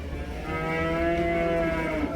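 A single calf at the Karabulak livestock market lets out a long, loud, sustained moo close by, rising slightly in pitch, with faint market murmur beneath and no clear talk.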